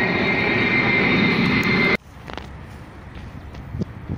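A loud, steady airplane engine roar drowns out everything for about two seconds, then cuts off abruptly, leaving quiet outdoor ambience with faint footsteps.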